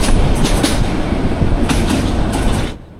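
The Meghna Express, an intercity train running from Chandpur to Chattogram, gives a steady, loud rumble and rhythmic clickety-clack of wheels on rails near Hajiganj station. The noise is heard up close and fades slightly at the end.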